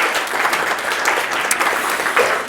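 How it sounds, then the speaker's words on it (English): An audience at an innovation fund info day breaks into sustained applause, a loud and steady wash of many hands clapping together with no speech over it. "Let's give them a round of applause."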